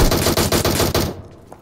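A rapid burst of automatic fire from a DP-28 machine gun in PUBG Mobile, loud and close, firing steadily for about a second before cutting off into quiet.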